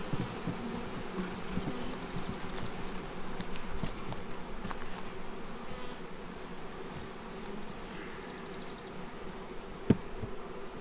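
Honey bees from a newly installed package colony buzz steadily and up close inside their hive after a pollen patty is placed under the cover, a dense continuous hum with a few soft knocks and one sharp tap near the end.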